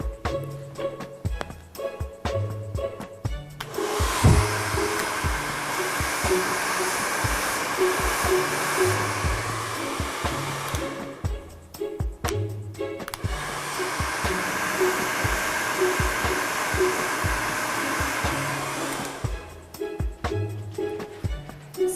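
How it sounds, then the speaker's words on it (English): A hair dryer set on hot blows loudly while hair is styled with hairspray into a zigzag part, running in two long steady bursts separated by a short pause, close to the microphone. "Before you blow dry, you're going to spray a little hairspray, and then you're going to blow dry that in on hot."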